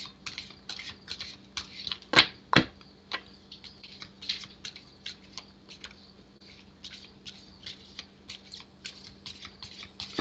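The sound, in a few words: shuffling cards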